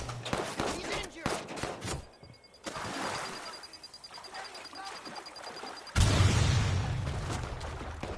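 In the video game Watch Dogs 2, rapid bursts of gunfire crackle and snap in quick volleys, then a grenade explosion lands with a heavy, booming blast that rumbles on; shouting voices come and go amid the shots.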